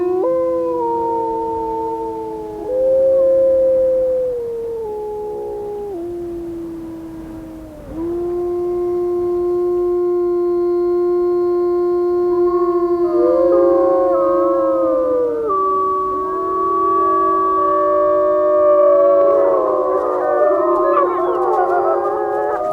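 Wolves of Yellowstone's Druid Peak Pack howl in a loud, sustained chorus of long, wavering, overlapping notes, with more voices joining and layering into a dense, rising blend toward the end.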